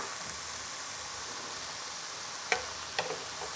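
Meat sizzling in a pan with parsley sprinkled over it, a soft steady frying hiss at low volume, broken near the end by a couple of brief clicks and knocks.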